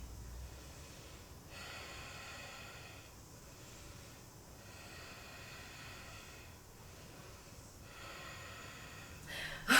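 Slow, steady breaths drawn in and out during a held yoga pose, a soft rhythmic hiss of inhales and exhales repeating every couple of seconds over quiet room tone, close and alone.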